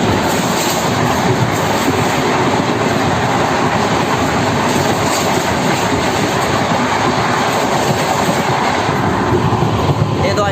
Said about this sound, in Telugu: స్పీడ్ మాత్రం సూపర్, బాగానే పోతుంది ట్రైన్ మాత్రం.